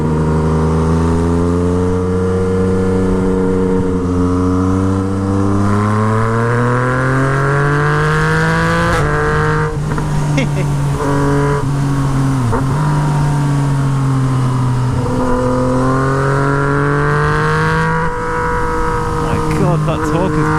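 A Yamaha MT09 motorcycle fitted with a straight-pipe Toce exhaust revs hard and close, with loud rising and falling engine sweeps held at high pitch, broken by short drops between pulls.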